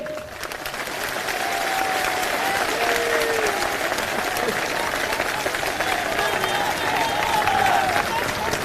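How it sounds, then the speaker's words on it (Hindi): A large outdoor crowd at a political rally claps loudly and steadily, a dense continuous wash of applause with scattered cheers that holds at full volume throughout. "एक बार जोरदार तालियां हमारी माताओं बहनों के लिए।"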